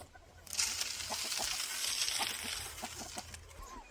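A flock of egg-laying chickens clucks in scattered soft bursts while being fed, over a rushing, hissing background of feed pouring and movement nearby.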